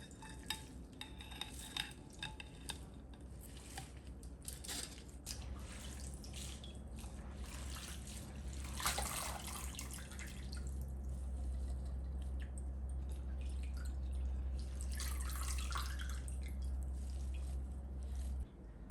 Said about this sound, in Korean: 이렇게 담근 물에 담갔다가 2, 3회 헹궈줍니다.